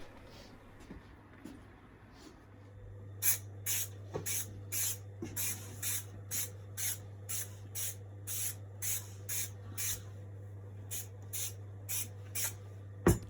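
Aerosol can of commercial-quality glue spraying leatherette trim on an antique Victorian chair during reupholstery, a fast series of short, sharp hissing bursts over a steady low electrical hum, with no voices.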